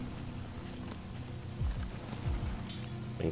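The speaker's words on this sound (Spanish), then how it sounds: "Me encanta cómo está hecho el efecto de la lluvia en este juego" Steady rain falling in the video game Detroit: Become Human, a constant soft hiss of drops on surfaces with a few low thuds and scrapes mixed in, no talking.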